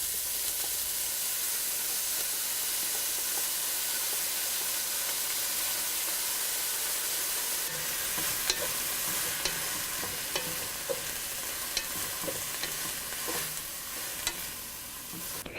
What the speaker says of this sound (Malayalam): ഇതിലോട്ട് നമ്മൾ ഡ്രെയിൻ ചെയ്ത് വെച്ചിരിക്കുന്ന വാഴച്ചുണ്ടിട്ട് ഏകദേശം 2-3 മിനിറ്റ് വഴറ്റുക.